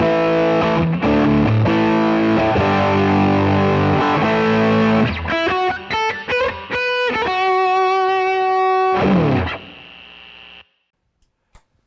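Electric guitar through a Cornerstone NERO fuzz pedal plays thick, gritty distorted chords and then single sustained notes, loud and alone, before ringing out to silence near the end.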